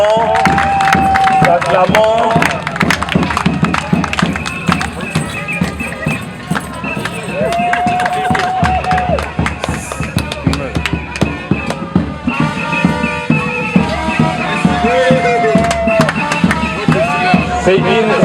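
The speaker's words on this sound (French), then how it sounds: "Merci madame, nous acclamons." A dense, noisy crowd cheers and acclaims at a retirees' pension event, with steady clatter and bursts of tonal sound throughout, loud and close, mixed with talking voices.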